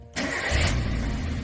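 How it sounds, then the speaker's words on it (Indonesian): A car engine cranks and catches at about 0.2 s, then settles into a steady, loud idle close by with no one talking. "Setelah itu kita nyalakan mobilnya."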